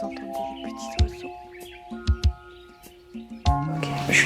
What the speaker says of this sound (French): Est-ce que vous entendez les petits oiseaux?